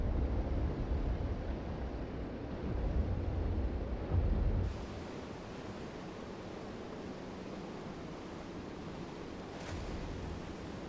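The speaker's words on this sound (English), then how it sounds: "Oh yeah, we're hitting those waves pretty hard." A Grumman G-111 Albatross amphibious flying boat in MSFS 2024 skimming and hitting waves on the water, a loud rushing roar of spray and hull impacts that drops to a steadier, quieter wash partway through.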